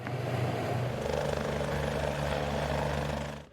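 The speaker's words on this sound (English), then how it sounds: "A chopper was brought in to assist for another emergency." A rescue helicopter flies over floodwaters, a steady droning rotor and engine hum that holds at an even level before fading off at the end.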